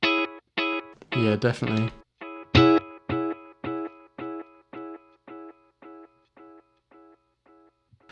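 A short guitar phrase through a Boss Space Echo RE-202 tape echo in aged mode, followed by a string of echoes that fade away one after another, sounding darker and duller with each repeat. A voice speaks briefly.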